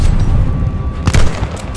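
A sniper rifle shot in the Call of Duty: Vanguard campaign: one sharp, loud blast about a second in, set against a steady din of battle noise.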